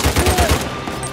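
Enemy gunfire in Uncharted 4 on PS4 Pro: a loud, fast burst of about six rapid shots in under a second, close and punchy, followed by a brief ringing tail.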